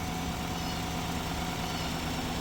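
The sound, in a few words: truck engine idling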